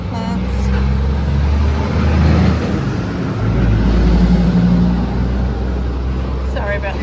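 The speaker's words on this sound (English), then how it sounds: "Sorry about the truck noise." A truck passes along a country-town street in Australia, a heavy low rumble filling the whole stretch and swelling twice as it goes by.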